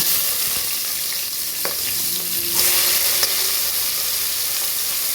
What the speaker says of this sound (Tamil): பச்சை மிளகாய், வெங்காயம் போட்டு,